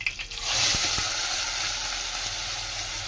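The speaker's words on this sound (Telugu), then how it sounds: "ఇప్పుడు ఇందులో కరివేపాకు వేసుకుందాం." Curry leaves and a ground paste hit hot oil in a pan while cooking Nellore-style fish curry, giving a loud, close, sustained sizzle after a couple of brief clatters at the start, with no talk.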